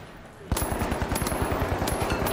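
Sustained automatic gunfire from an enemy in The Finals, a long unbroken burst of rapid, evenly spaced shots that starts abruptly and keeps going loud and close without a pause to reload.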